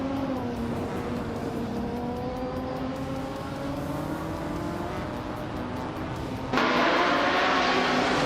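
A 2004 Porsche Carrera GTR engine in a racing video game holds a steady, loud high drone with other cars in the pack, then the roar jumps sharply louder and brighter near the end.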